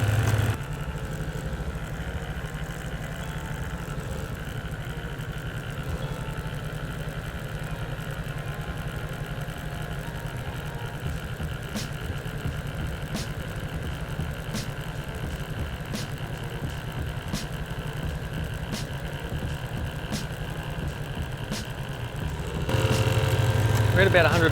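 A recently rebuilt EAS air compressor runs continuously while building pressure past 100 PSI, giving a steady mechanical drone with faint regular ticks in the middle stretch and a louder shift near the end.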